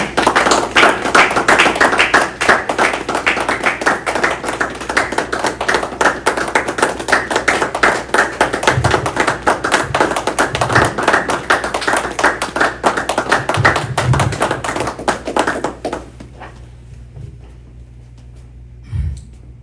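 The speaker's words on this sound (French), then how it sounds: "sous vos acclamations, est-ce qu'on peut acclamer pour recevoir?" Crowd applause with cheering at a grand opening ceremony, a dense burst of clapping that holds steady for about fifteen seconds and then fades to scattered claps and quiet room tone.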